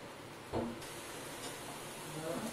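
A garlic cheese paratha roasting with ghee on a hot pan gives a soft, steady hiss of sizzling, with a brief louder burst and faint background clatter, quiet and continuous.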